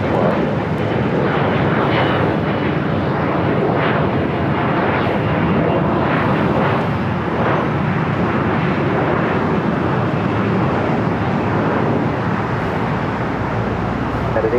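An airplane taking off at Los Angeles LAX airport, a loud, sustained broadband jet roar that holds steady and close throughout.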